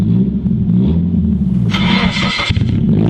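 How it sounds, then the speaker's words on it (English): A car engine on a Nissan S14 with a newly fitted exhaust turns over and catches, then gives a short sharp rev before settling back, loud and close with no talk. "You're probably videotaping how your exhaust sounds."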